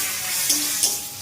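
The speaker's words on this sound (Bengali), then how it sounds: "এবার লঙ্কা গুঁড়ো দিয়ে দেব, দিয়ে আর একটু নেড়ে চেড়ে নেব" Chili powder being stirred into a frying spice paste in a pan, a soft continuous sizzle with two brief scraping stirs, faint and close, no voices.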